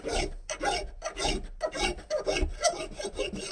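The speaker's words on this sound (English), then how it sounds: "then I come back with this more finer file" A fine file rasps along the wooden sides of a Telecaster-style guitar body in quick, rhythmic back-and-forth strokes, close and fairly loud, with about a dozen short rubbing passes and no talking.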